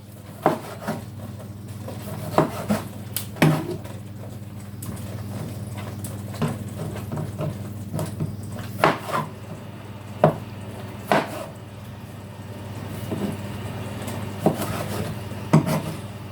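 Vegetables for a curry are chopped into bite-sized pieces. A knife taps and scrapes steadily against a board at an irregular pace, close up, with no talking.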